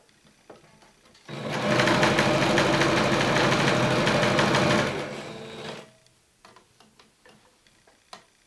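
A sewing machine stitches bias binding onto the front and back neckline of a flared jumpsuit in one steady run of about four seconds, a close, loud, even mechanical hum with rapid ticking, and quiet handling noises before and after.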